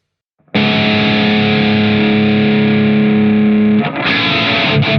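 An electric guitar runs through a Positive Grid Bias Amp 2 modeled with 12BH7 preamp tubes and plays a loud, sustained distorted chord. It rings steadily for over three seconds before a quick re-strike near the end, with no talking.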